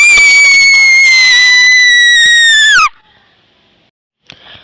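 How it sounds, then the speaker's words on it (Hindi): A witch's scream sound effect for a horror story: one loud, shrill, sustained shriek that bends downward and cuts off abruptly, leaving near silence and a faint distant noise. "और कभी कभी वो चीखती।"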